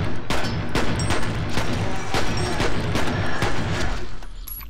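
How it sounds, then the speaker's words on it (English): Rapid gunfire in the shooter game F.E.A.R., a dense run of sharp, loud shots in quick irregular bursts that keep cracking for several seconds before breaking off at the end. "where's the gunfire coming from?"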